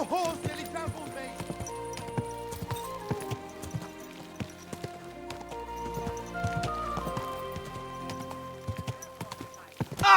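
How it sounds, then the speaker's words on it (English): Horse hooves clip-clop at a trot in the medieval game Kingdom Come Deliverance 2, the steady beats sitting under a layer of game music with brief voices calling out. "Your horse nearly trampled me!"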